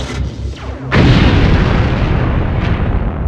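An ion cannon strike in Command & Conquer on PS1 erupts as a sudden loud, deep explosion with a long rumbling roar that keeps thundering after a brief quieter lead-in.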